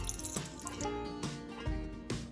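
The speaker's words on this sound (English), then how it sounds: "We're going to pour off this fat left in the pan" Rendered fat poured from a pan for a gumbo roux makes close, liquid dripping and gurgling sounds with a few splashy pulses, moderately loud and with no talk.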